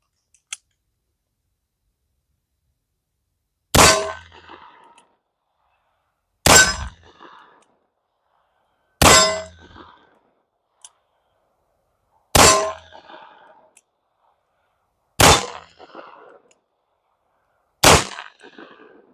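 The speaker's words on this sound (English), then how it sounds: "test out the Super Redhawk, chambered in 44 Magnum" Six loud, sharp revolver shots from a Ruger Super Redhawk in .44 Magnum firing 240-grain MagTech soft points at targets about 20 yards away, spaced roughly every two to three seconds, each followed by a brief ringing decay, with no talking.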